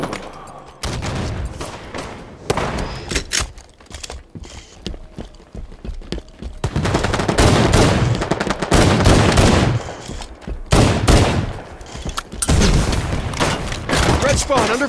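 Bursts of gunfire from the Halo 5 video game, with loud volleys and rapid automatic fire clustered in several heavy stretches between quieter gaps, with game chatter in the mix.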